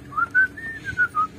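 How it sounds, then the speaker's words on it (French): Someone whistles a short, wavering tune up close, clear and alone with no talking. "je siffle bien en plus."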